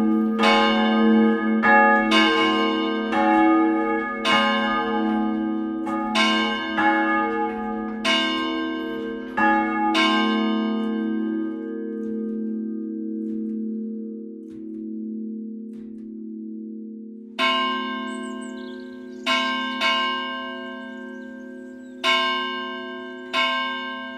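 A church bell rings out in repeated resonant strokes with long ringing hum between them, pausing for several seconds before the strikes resume, clear and prominent with no voices.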